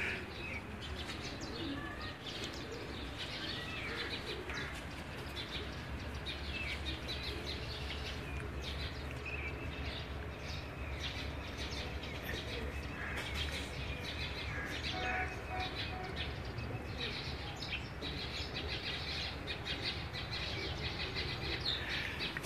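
Golden-coloured pigeons of a racing breed are at a rooftop loft, cooing and chirping softly among continuous background noise with some faint wing activity.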